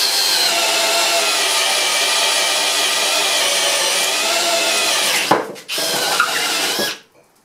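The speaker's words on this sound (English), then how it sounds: "So you can drill a 40mm hole if you have to." A ToolPRO 18V hammer drill bores a 40mm hole in low gear, a loud steady whirring drone running about five seconds before it stutters, briefly resumes and stops.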